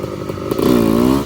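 Motorcycle engine on a dirt trail, rising from a rough idle into a sustained louder rev, close by and alone without talk.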